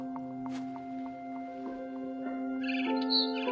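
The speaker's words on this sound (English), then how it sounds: "Then I heard chirping outside my window. It was a barn swallow going back to her nest." A barn swallow chirps outside a window in the video game What Remains of Edith Finch. Short, bright tweets repeat close by over a steady tonal hum, and the calls grow denser and louder toward the end.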